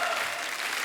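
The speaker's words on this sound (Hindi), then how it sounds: "जोरदार तालियों के बीच please welcome mister Saurabh Shukla and Supriya Shukla ji." Applause from a studio audience on a Hindi TV comedy talk show greets arriving guests, a dense, steady wash of clapping filling the short moment at even volume.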